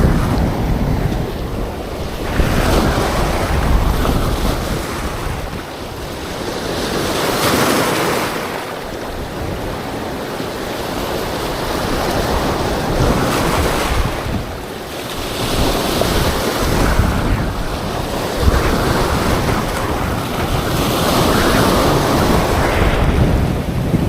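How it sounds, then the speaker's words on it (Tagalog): Steady wind and sea waves on open water during the amihan northeast monsoon, heard from a small fishing boat as a loud, continuous roar of wind noise and surf that swells and eases in slow surges, with no voices. "Amihan na naman kasi, sumimoy na naman."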